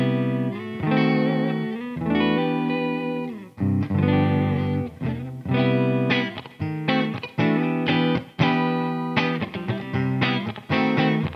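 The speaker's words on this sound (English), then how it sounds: "Let's hear some clean tones now with the Boss Katana artist and the Soloist X Series SLX DX Jackson." A Jackson SLX DX Soloist electric guitar with high-output pickups plays clean tones through a Boss Katana Artist amp. Ringing chords and quick picked phrases are heard up close and alone, with clear sustained notes and short breaks between them.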